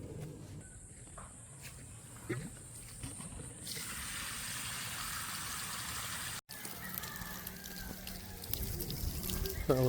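Steady rushing, gurgling water from a septic tank being pumped out on a farm in the Philippines, a continuous mid-level wash with a brief cut and a few faint knocks.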